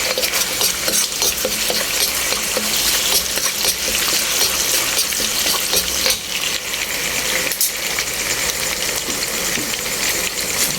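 String beans (sitaw) frying for adobong sitaw in an uneven pan after garlic and onion, a loud, dense, continuous sizzle heard up close, with light stirring scrapes and no voices.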